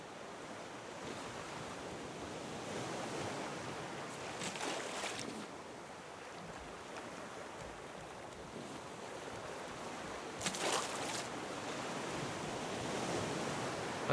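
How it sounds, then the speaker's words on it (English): Choppy ocean water in the survival game Raft: a steady, noisy wash of waves and wind around a drifting raft, with two brief louder splashes or gusts rising out of the constant surf. "Oh, water's getting choppy."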